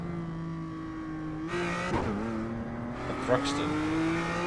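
A BMW M2 CS race car engine drones and revs at Thruxton in iRacing, with steady engine tones that shift as gears change and the pitch climbs again, under a man's speech.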